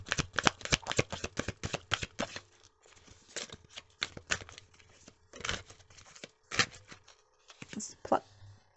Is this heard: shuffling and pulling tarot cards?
yes